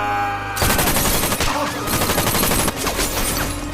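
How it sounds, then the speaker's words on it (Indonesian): Sustained automatic gunfire from the 2019 film Lucky Day, a loud dense burst of rapid shots filling the scene, continuing almost without pause with a brief break near the end. "Luke tiba-tiba muncul dan langsung memberondongkan peluru ke arah Red."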